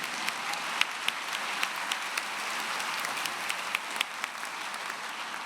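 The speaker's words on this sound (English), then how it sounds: "Let's applaud them as well." A large audience at a Humphrey School of Public Affairs commencement ceremony applauds steadily, a wash of distant clapping with a few sharper claps standing out.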